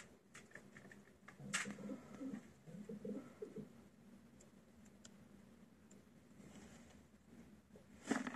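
Pigeons coo faintly and intermittently close by, with a few sharp clicks and light rustles in an otherwise quiet space.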